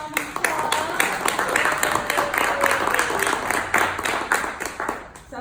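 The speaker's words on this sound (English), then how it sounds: "Everybody give a round of applause." An audience at a scholarship reception for graduates and awardees claps steadily for several seconds, a lively crowd applause with a faint voice beneath.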